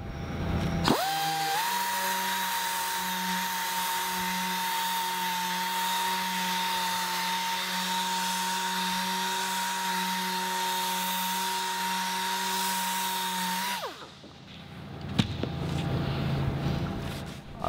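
A power tool sands an aluminium wing skin panel for a Seversky P-35A, giving a loud, steady whine that runs for about thirteen seconds before stopping abruptly, followed by quieter handling noises.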